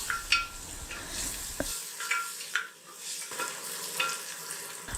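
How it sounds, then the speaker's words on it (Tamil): Crushed small shallots sauté in a pan for a Tamil-style soup, a steady soft sizzle with occasional scraping stirs from a spoon, close and with no talking. "வெங்காயம் நல்லா வதங்கணும்."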